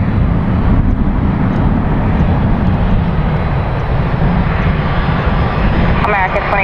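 A heavy jet landing or taking off at Miami International Airport, a loud continuous broadband engine roar filling the whole stretch, with a faint radio voice chirping near the end.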